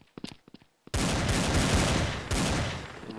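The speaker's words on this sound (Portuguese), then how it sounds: "Como que eu estou usando esse tiro, Berg? Por que eu mudei de pistola, velho?" Pistol gunfire in the Blood Strike video game: a few sharp separate shots, then a dense, loud burst of rapid fire that keeps going to the end.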